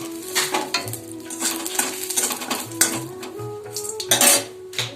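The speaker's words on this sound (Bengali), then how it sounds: "কড়াই তেলের উপর মেথিটা দিয়ে দেবো" Clattering pots and utensils with a steady sizzle of fenugreek seeds frying in hot oil in a wok, metal scraping and stirring throughout.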